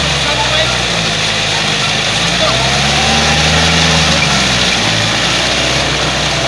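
A Yanmar-engined vehicle runs steadily and loud, its low engine drone continuous throughout with no pauses.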